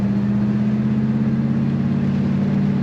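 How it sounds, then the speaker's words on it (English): A 1961 Pontiac Catalina convertible's engine idles with a steady, deep low rumble that stays loud and close and holds an even drone throughout, with no speech over it. "This car has a very nice rumble to it."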